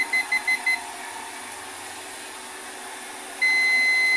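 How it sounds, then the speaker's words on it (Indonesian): A multimeter's continuity buzzer, used while repairing a Samsung A13 phone, gives four short high beeps in a quick row, falls silent, then sounds one sustained tone near the end over faint background hum. "Ini kita pindahkan ke mode buzzer."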